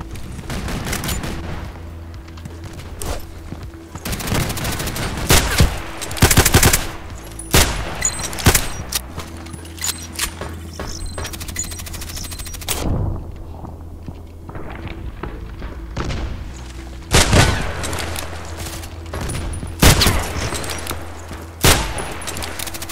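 SV98 sniper rifle firing in the online shooter Contract Wars, sharp, heavy single shots spaced irregularly, with footsteps, thuds and other gunfire in between, close and loud.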